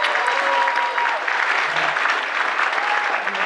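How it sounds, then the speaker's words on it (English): Audience applause at an arts awards ceremony honoring ten students, a dense sustained round of clapping from a crowd, even and continuous throughout. "Could we please have one round of applause for our 10 students up here?"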